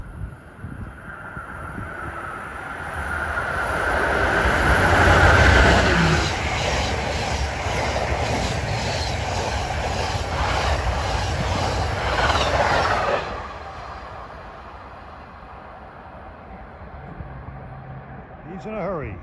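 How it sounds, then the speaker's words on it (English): Amtrak train 97, the Silver Meteor from New York to Miami, rushes past southbound with many Viewliner sleeper cars, a loud sustained roar and rhythmic clatter of wheels that builds, holds and then fades away. "About to pass southbound at 348 is this train 97, the Silver Meteor from New York to Miami."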